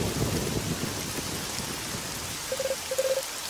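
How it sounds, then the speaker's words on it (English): Steady rain pours in a video game level, a dense even hiss with a low rumble like distant thunder, ending with a few short chiming tones, no speech. "Look, it's raining. It's always raining over here."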